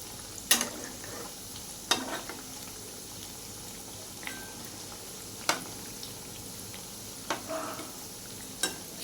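Milk powder jalebi frying in hot oil in a pan, a low continuous sizzle broken by several sharp scrapes and clinks as the pieces are turned, no talking.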